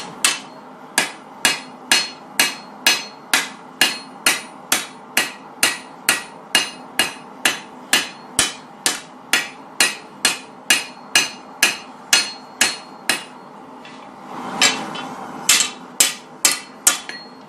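Steady, evenly paced hammer blows ring out on hot steel while a kukri blade bevel is forged, about thirty sharp strikes close and loud, with a brief scraping pause near the end before the blows resume.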